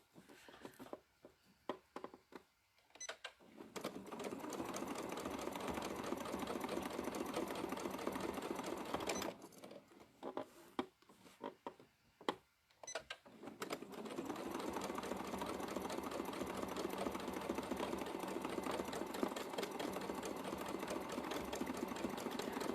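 A sewing machine does free motion quilting, its needle hammering in long fast runs broken by pauses and irregular bursts while the fabric is repositioned, with no talking.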